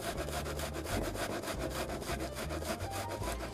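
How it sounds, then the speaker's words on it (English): Half a medium-sized onion rubbed against a kitchen grater, giving a steady run of rhythmic, close scraping strokes with no talking. "And you just grate it."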